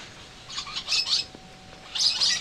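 Lovebirds at an Indonesian breeding farm chirping, with two bursts of high, shrill twittering calls separated by a quieter pause, fairly close and with no one talking.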